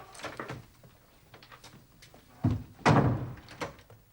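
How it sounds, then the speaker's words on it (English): A door is pushed shut indoors with a solid thunk at about 2.5 seconds and a louder slam-like impact near 2.9 seconds, preceded by faint shuffling and movement. "And shut the door."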